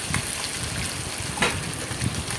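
Katla fish pieces fry in a nonstick pan, giving a steady close sizzle with a few brief louder spatters.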